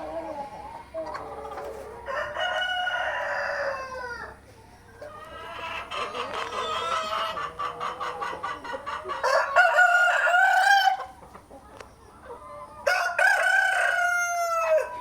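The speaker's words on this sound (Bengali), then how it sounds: "এটা আমার মাল্টি কালারের টাইগার মুরগি।" Multi-colour tiger chickens, a rooster crowing repeatedly in loud bursts alongside clucking hens, close by with short pauses between calls.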